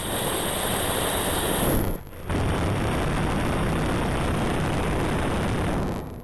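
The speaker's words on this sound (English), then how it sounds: "It's a Gatling gun." A Gatling gun roars in one continuous, loud stream of rapid fire, breaks off briefly, then resumes and keeps going until near the end, with no voices.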